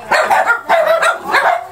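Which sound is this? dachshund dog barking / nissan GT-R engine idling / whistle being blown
dachshund dog barking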